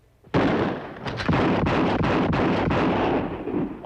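Rifle shots ring out in rapid succession in a western-style shooting contest, a loud sharp crack followed by a string of evenly spaced reports that blur into echoing reverberation.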